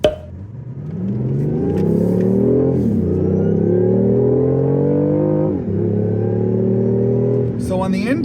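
A 2019 BMW i8 Roadster with a 3-cylinder engine and an exhaust sound amplified through microphones revs and accelerates in a steady rising whir with gear-change dips, close and loud, as a person talks over it.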